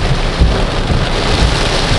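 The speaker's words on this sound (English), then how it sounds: "This is the Tampa Rain." Heavy rain pounds down during a Tampa thunderstorm, a dense loud hiss with low rumbling beneath, steady throughout and heard from inside a car.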